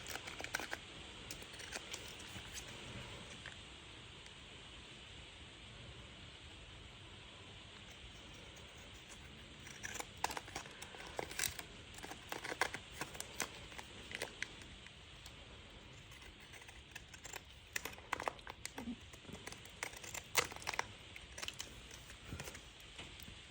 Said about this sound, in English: So I'm just going to cut it with that